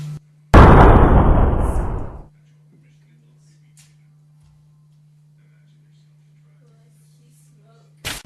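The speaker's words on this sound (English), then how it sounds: "a relatively safe, cheap, and effective way to create on-screen explosions" An air cannon fires for an on-screen explosion effect, a sudden loud blast of rushing air that roars for under two seconds and cuts off, followed by near silence under a steady low hum and a faint click at the end.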